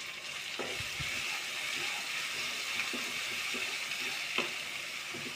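Masala with turmeric frying in a pan for a fish and vegetable curry, a constant bright sizzle and hiss with occasional scraping stirs and soft knocks, close and alone.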